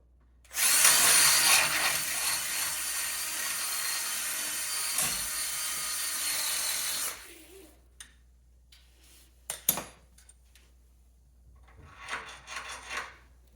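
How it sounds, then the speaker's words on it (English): A power drill whines steadily for several seconds boring a Volkswagen bus engine bolt hole out to 10 mm, then stops, followed by scattered metallic clicks and clunks of handling nearby. "I'm going to drill this out to 10."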